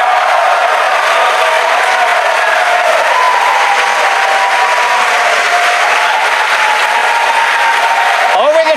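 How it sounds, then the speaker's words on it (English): Crowd at SpaceX headquarters cheering and applauding around midnight during a Falcon Heavy launch and booster separation, a loud, continuous roar of clapping and shouts that holds steady throughout. "Over the cheering in the background"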